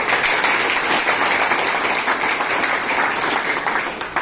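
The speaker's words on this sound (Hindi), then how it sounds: "जो जो आपको बुलाए हैं इनके लिए एक बार उनके लिए जोरदार ताली कीजिए।" Loud audience clapping at a large seminar in Dumka, a dense continuous roar of many hands, close and sustained for the whole stretch with no talk.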